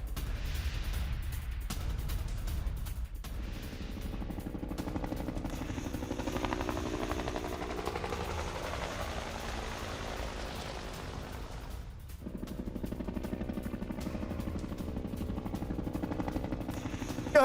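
MH-60R Romeo military helicopter in flight, a steady, loud rotor thrum and turbine roar that carries on throughout with a brief dip partway, no talk.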